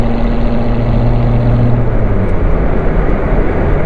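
A manual Chevrolet Corvette C7 Z06 engine drones loudly and steadily from inside the car while cruising through high gears, with a low tone that holds and then drops slightly as it shifts up.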